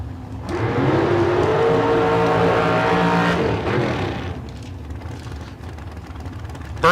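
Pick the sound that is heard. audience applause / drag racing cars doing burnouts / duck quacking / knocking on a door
drag racing cars doing burnouts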